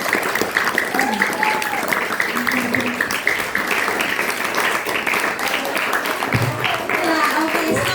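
An audience at a school event claps continuously, a dense, near crackle of many hands that stays steady throughout, with a few voices mixed in.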